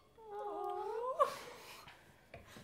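A house cat gives one drawn-out, rising meow followed by a short chirp, fairly close and soft, with quiet room tone and no talking over it.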